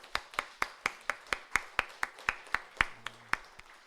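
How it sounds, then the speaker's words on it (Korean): A church congregation applauding, steady rhythmic hand claps at a regular pace with no talking over them. "우리 다시 한번 박수로 한번 환영하십시오."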